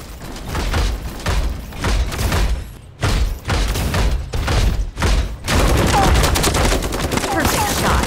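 Rapid bursts of gunfire in the SMC battle royale mobile shooter, loud repeated volleys separated by brief gaps, ending in a dense sustained barrage.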